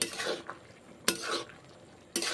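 Mushrooms with coriander leaves cook in a pan while being stirred, with three sharp scrapes of a utensil against the pan spaced about a second apart over a low sizzle.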